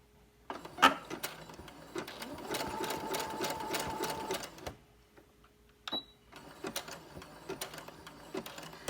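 A sewing machine runs a zigzag stitch on stretch knit fabric for a headband, whirring steadily for about four seconds, then giving a few short, close bursts after a pause.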